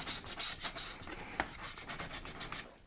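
Sandpaper, 320 grit, scuffs the painted plastic shell of a Nintendo Zapper in quick, regular back-and-forth strokes, close and fairly quiet, with no talking.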